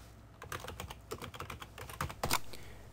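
Someone types an answer on a computer keyboard in a quick, uneven run of close keystrokes with a few louder taps near the end. No one speaks.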